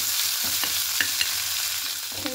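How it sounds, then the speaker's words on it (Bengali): Neem leaves fry in hot oil with a dense, steady crackling sizzle, broken by a few light spatula scrapes and taps, close up and without speech. "এবার এখানে নিম পাতাগুলো দিয়ে দেব। একটু ভালো করে ভেজে দেবো।"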